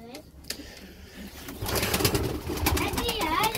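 Pigeons in a backyard coop, with soft cooing and brief wing flutters under close, ongoing conversation from a man and a child.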